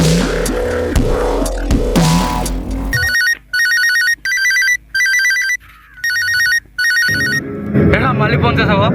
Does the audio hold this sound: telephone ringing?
yes